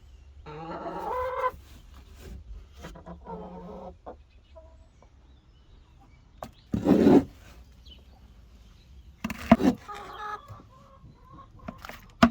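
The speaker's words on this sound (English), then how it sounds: "I really like chickens, they're friendly." Chickens cluck softly and intermittently nearby on a farm, with a few louder bursts of clucking standing out against quiet background noise.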